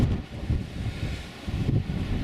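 Gusty wind buffets the microphone outside a tent in winter on Dartmoor at Oke Tor, a steady low roar with rising and falling gusts and no voices.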